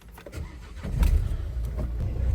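A 2017 Renault Megane with a 1.5 diesel engine is cranked and catches after about a second, settling into a loud, steady, clattering idle close by.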